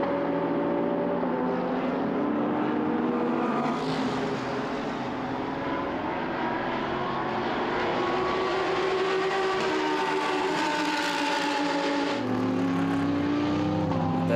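Lamborghini GT race cars roar around the Hungaroring in a steady, dense engine drone, several cars running close together with their pitch shifting as they pass.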